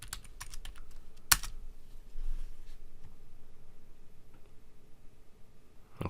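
Computer keyboard typing a terminal install command: a quick burst of close key clicks, a sharp keystroke, then sparse lighter taps over quiet room noise.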